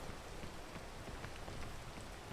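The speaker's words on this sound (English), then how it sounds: "we need to wait out the rain" Rain falls steadily in the video game Shadow Labyrinth, a dense, even hiss of drops on surfaces, soft and unbroken throughout with no voices.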